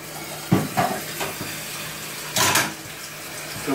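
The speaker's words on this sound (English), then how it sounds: "Fill the pot with a little water so it doesn't stay sticky for when I wash it" Tap water runs into a cooking pot in a home kitchen, coming in short uneven gushes and splashes, close and clear with no talk.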